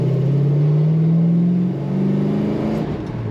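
A 1965 Oldsmobile Cutlass convertible restomod's engine revs up and accelerates, its pitch rising steadily, then dips briefly as a manual gear changes and climbs again, loud and close.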